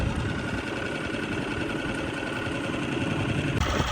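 A small outboard motor on a dinghy drones steadily and close by, a continuous buzzing engine hum with no talking.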